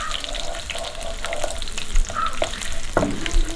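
Mustard seeds and fresh curry leaves crackle and sizzle steadily in hot oil for an egg roast, with a few sharper pops near the end and no talking.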